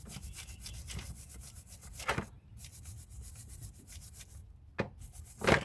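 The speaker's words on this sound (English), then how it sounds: "I use a brush to clean the where the retainer sits." A brush scrubs the seat where the retainer sits on a Honda Odyssey front brake caliper, with quiet, uneven rubbing strokes and a few sharper scrapes close by.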